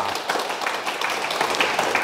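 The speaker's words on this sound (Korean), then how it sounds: "좋은 질문이었는데 박수 한번 부탁드립니다" Audience applause at a Korean question-and-answer talk session, a steady dense patter of clapping filling the whole stretch at moderate loudness, with a brief voice at the start.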